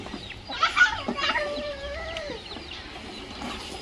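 Backyard chickens cluck in a small poultry yard also holding guinea fowl, with a few nearby calls clustered in the first half and softer clucking continuing under faint background activity.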